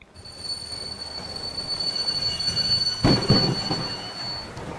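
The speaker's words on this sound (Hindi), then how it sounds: "ट्रेन धीमी होकर एक स्टेशन पर आकर रुकी और फिर थोड़ी देर बाद दोबारा अपने गंतव्य स्थान की ओर चल दी।" A train slows and pulls into a station with long high metal wheel squeals ringing over a steady rumble, and a heavier clank partway through.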